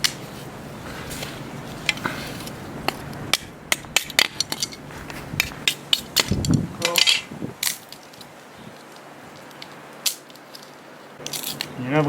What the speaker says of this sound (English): I'm going to get some kindling together with my trusty old panga